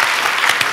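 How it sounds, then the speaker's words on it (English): Students in a talk audience clap together, a short, dense patter of applause with a few sharper individual claps standing out. "We can clap again if you like."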